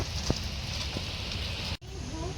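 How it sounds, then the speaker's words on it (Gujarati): Steady rain falls outdoors during a rainy spell, a dense continuous hiss with a few faint drips, briefly cut off near the end before resuming. "બરાબર જ વરસાદ પડી ગયો."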